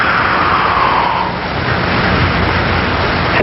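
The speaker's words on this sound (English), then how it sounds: "Now I'm going to blow air in under the piston." Air is blown steadily into a cylinder beneath a piston, a continuous loud breathy hiss lasting several seconds without a break.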